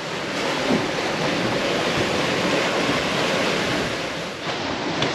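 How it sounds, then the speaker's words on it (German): Huge ocean waves and strong wind at sea near the Cook Islands, a loud, unbroken roar of rushing water and gusting air with wind buffeting the microphone. "Riesige Wellenberge."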